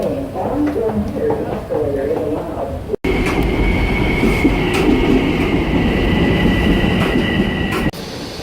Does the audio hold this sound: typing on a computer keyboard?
no